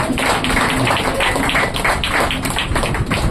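A church congregation claps their hands together in a steady, rhythmic beat, dense and close, with no break.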